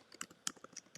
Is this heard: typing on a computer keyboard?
yes